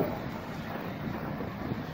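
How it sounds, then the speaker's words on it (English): Wind blowing outdoors after rain, a steady broadband rush buffeting the microphone, loud and close with no talk. "It's windy though."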